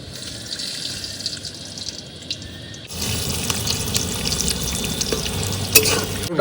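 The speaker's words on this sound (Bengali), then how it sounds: "তেল গরম হয়ে গেছে আলুটাকে এবার ভেজে নিই" Potatoes frying in hot refined oil for an aloo paratha meal, a steady close hiss and crackle that turns louder and denser halfway through, with no talking.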